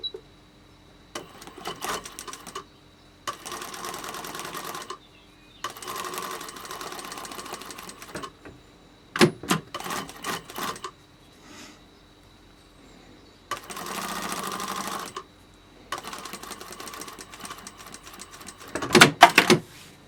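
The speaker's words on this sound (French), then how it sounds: "Et on vient coudre à 1 cm." Sewing machine stitching a fabric face mask at a 1 cm seam, loud close bursts of rapid mechanical clatter lasting a second or two each, separated by short pauses, with a few sharp clicks between runs.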